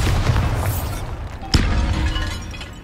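A Bombarda blast spell from Hogwarts Legacy, set in a tomb, lands as one sharp cracking burst inside a dense, roaring rumble of crumbling debris that fades out over a couple of seconds.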